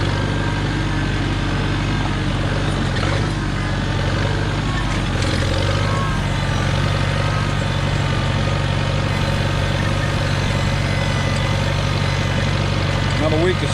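A Farmall Cub tractor drones steadily and close at a constant pitch while it cultivates rows in a field, a continuous, unbroken engine hum with a person talking over it.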